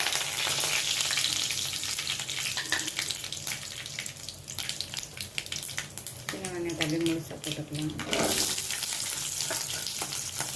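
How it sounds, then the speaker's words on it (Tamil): Fenugreek seeds and curry leaves fry in hot oil with mustard seeds, a steady close sizzle with crackling pops that swells briefly partway through and continues to the end. "கொஞ்சோண்டு வெந்தயம் போட்டுக்கலாம் கருவேப்பிலை போட்டுக்கலாம்"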